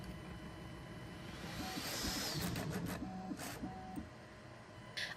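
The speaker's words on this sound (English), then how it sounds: "I want to see if this A1 Mini can clean it before the actual print starts" Bambu Lab A1 Mini 3D printer wiping filament residue from its nozzle before a print, a steady mechanical whir with stepper-motor tones and brief scraping bursts, close and continuous without talk.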